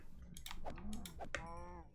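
A cow in the video game Minecraft gives a short, drawn-out moo among several quick game clicks and sound effects, with no talk over it.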